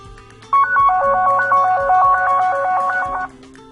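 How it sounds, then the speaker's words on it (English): An Android phone plays its default ringtone, triggered remotely by Device Manager: a loud, bright, repeating electronic melody of quick alternating tones lasting about three seconds, close to the microphone over a faint low hum. "I can cause it to ring."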